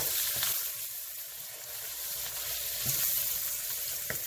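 Liver pepper sizzles and fries in a pan on a stove turned down to medium or low, a steady close hiss with a few small pops and stirring scrapes, no voices.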